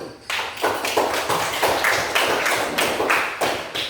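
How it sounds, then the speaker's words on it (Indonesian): A classroom of students applauds for group 1, a quick run of fairly close, sharp claps rising after a brief pause and carrying on steadily without speech. "Kita beri aplaus kepada kelompok 1"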